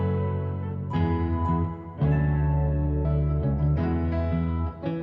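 A processed musical sample treated with reverb and RC20 vinyl crackle plays a warm, sustained loop of layered chords that change every second or so. It is moderately quiet, with a lo-fi, echoing character and no speech.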